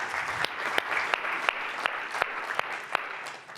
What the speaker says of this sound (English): give a round of applause to Colin.